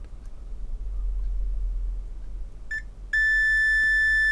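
A multimeter on continuity mode beeps with a steady, clean high-pitched tone when its probes touch a shorted diode on a Behringer Europower PMX1000 mixer board, after a quiet hum and a faint earlier chirp.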